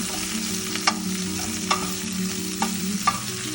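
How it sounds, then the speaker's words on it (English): Mushrooms sizzle in garlic-infused olive oil in a pan, a steady close frying hiss broken by four sharp knocks of a spoon scraping and tapping the pan. "I'm gonna just stir this in."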